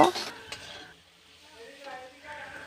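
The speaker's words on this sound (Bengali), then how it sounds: "এবার আলুগুলো মশলার সাথে ভালো করে কষে নেব" Potato pieces stir-fried with spices for a Bengali lote fish dish, a brief soft sizzle and a couple of scraping stirs, faint and fading after an opening clatter.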